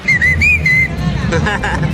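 Several sharp, high whistled tones of Mexican whistled language, five tones imitating five syllables, ring out in quick succession at close range over a low murmur of background noise and voices.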